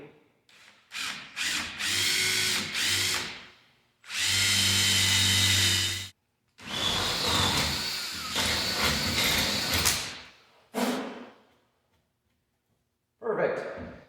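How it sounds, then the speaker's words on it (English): A power drill boring through aluminum during a headlight and pod light install on a lifted Grand Marquis, several loud whirring bursts of varying length separated by pauses, close by. "The upside is this stuff's aluminum, so it's you know, drills out pretty easy."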